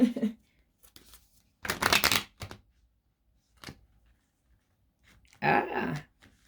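A Moonology oracle card deck is shuffled in short riffling bursts, two main flurries separated by quiet pauses with faint small taps between, close and fairly soft.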